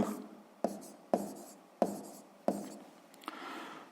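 Pen or pencil writing by hand during a sixth-grade math exercise: four or five short scratching strokes in an uneven rhythm, close and clear, with each burst beginning sharply and then trailing off.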